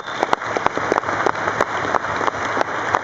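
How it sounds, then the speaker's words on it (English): Crowd applause for the Lotus Racing Formula One team at a car launch event, a steady patter of many hands clapping with scattered sharper claps, moderately loud and continuous. "would you please give a warm round of applause for your Lotus Racing team on stage now?"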